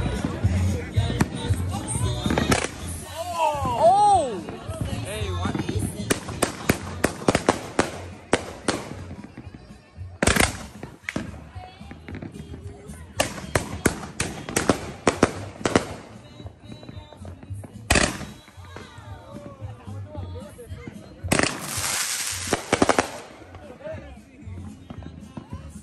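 Firework cakes fire at a 4th of July block party, with rapid bursts of shots crackling and booming close by in several loud volleys separated by brief pauses, while people talk and shout throughout.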